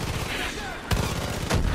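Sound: mortar strike explosions in video game Far Cry 5

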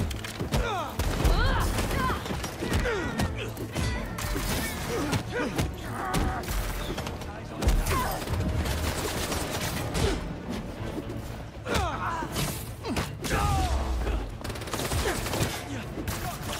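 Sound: enemies shooting guns at Spider-Man in Spider-Man 2 video game

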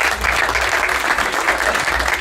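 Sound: audience applause for a spectator

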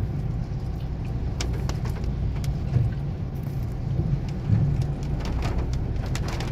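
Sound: heavy rain

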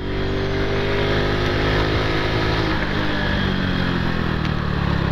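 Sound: Honda Pop 110 motorcycle engine accelerating while riding

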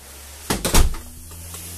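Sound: glass shower door opening or closing

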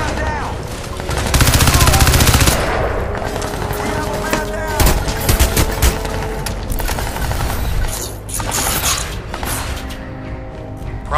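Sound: gunfire shooting at the player in video game Crysis 2

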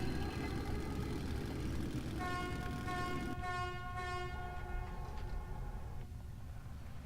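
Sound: train horn honking in video game Metro 2033

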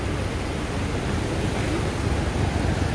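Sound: flooded Ipanema River water rushing

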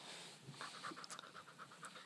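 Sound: dog panting

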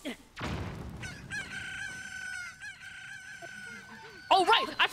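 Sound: video game chicken crowing and clucking

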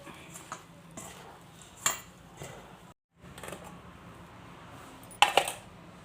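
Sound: mixing rice flour dough with spring onion and coriander

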